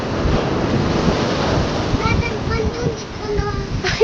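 Sea waves wash steadily onto the shore in a continuous close roar, with wind buffeting the microphone and a voice speaking faintly in the second half.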